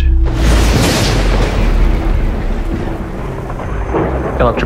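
A deep thunderclap from an electrical storm on the alien planet Icarus, below the tree line, bursts in loudly and rolls on as a long, heavy rumble that slowly fades.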